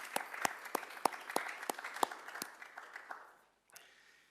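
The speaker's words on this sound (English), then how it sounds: "I think we should give Tim another round of applause" A conference audience at a climate research session claps for a speaker, with spaced individual claps ringing out in a fairly sparse, moderate round that fades away before a brief final clap.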